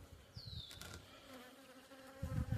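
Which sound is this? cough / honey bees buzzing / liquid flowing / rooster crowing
honey bees buzzing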